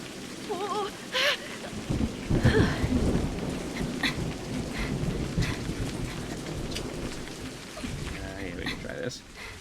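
Rain and rumbling thunder from a storm in the Scottish Highlands adventure game A Highland Song, a loud, steady downpour with a heavy low rumble early on, while someone talks briefly over it.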